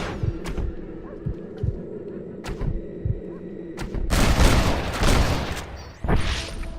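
Gunfire in the Western game Red Dead Redemption: a few sharp, spaced shots over a low humming backdrop, then a loud, dense burst of overlapping shots and echoing blasts near the end.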